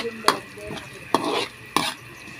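Corned beef mixed with recado sizzles in a frying pan while a utensil scrapes and stirs it in three distinct strokes, close and clear.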